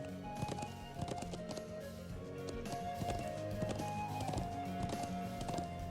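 Steady clip-clop of horse hooves in a Trails of Cold Steel role-playing game, a rhythmic trotting beat over soft game music at moderate distance, with no talking.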